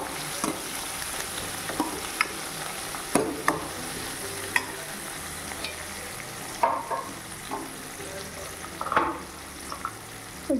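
Ranapaala leaves fry with dal in a pan, a soft continuous sizzle broken by intermittent scraping stirs and a few sharper spoon knocks, close and unhurried.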